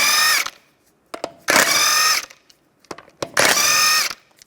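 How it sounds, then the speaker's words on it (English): Power tool with a 17mm socket spinning off the wheel lug nuts of a Mini Cooper, three loud whirring bursts close by, each followed by clinks and rattles of the socket and nuts. "take the lug nuts off."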